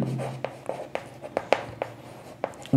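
Chalk or marker taps and strokes across a classroom board in a quick, uneven series of short, sharp scratches, close and fairly quiet, with no voice over them.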